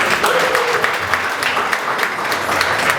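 At a Moscow African gala party, the audience gives steady, dense applause that lasts the full three seconds at a loud, even level, with no voices over it.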